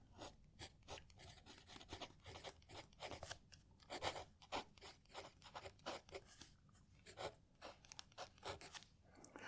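A winter-themed fountain pen scratches across paper in close, quiet strokes. The nib scrapes in an irregular, steady rhythm with small pauses between letters, and no one speaks.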